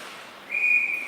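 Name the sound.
referee's whistle during ice hockey game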